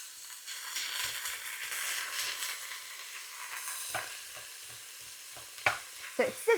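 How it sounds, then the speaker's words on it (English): Ground beef sizzles steadily in a pan over medium heat with a soft hiss, broken by a few scraping and tapping stirs near the end. "So it's sizzling away."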